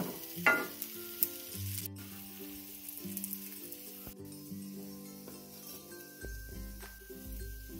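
Cauliflower tikki patties shallow-frying in a pan over low-to-medium gas flame until golden, giving a steady close sizzle with a few utensil clinks and soft scrapes, no one talking.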